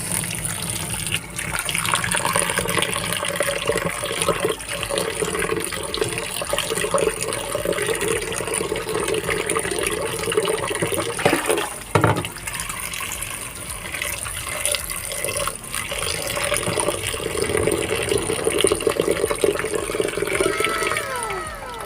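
Tap water runs steadily over four lagundi leaf stems being washed, a continuous close gush with splashy shifts in the flow and a brief louder burst midway.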